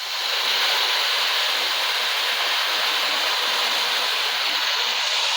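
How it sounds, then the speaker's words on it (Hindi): Jaggery water is poured into a pan as a steady, loud, continuous rushing splash lasting several seconds, with no talking over it. "अब मैं इसमें डाल दूँगी गुड़ वाला पानी।"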